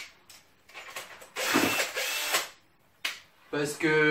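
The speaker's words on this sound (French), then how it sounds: "Alors je passe en vitesse lente sur la perceuse, sur la visseuse" A cordless drill/driver is switched to slow speed, giving short whirring bursts and clicking mechanical chatter as the gear selector is changed, close by, ending in a brief higher motor whine.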